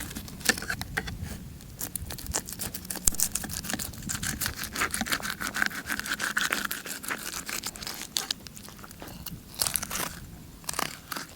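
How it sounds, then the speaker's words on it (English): A fillet knife scrapes along the backbone of a redfish as it is filleted. Close, dense crunchy scraping and ticking runs continuously, with rapid irregular clicks as the blade rides the spine, and no talk. "You can hear the knife actually rubbing against the fish's spine."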